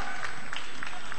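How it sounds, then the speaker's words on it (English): Brief burst of audience applause at the Miss World pageant for the contestants, a loud dense wash of clapping with a few cheers rising above it. "Let's give them a round of applause as 25 goes to 7"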